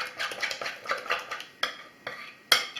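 A utensil mixes flan batter by hand in a bowl, scraping and tapping against the sides in quick strokes, with sharper clinks now and then, close and moderately quiet.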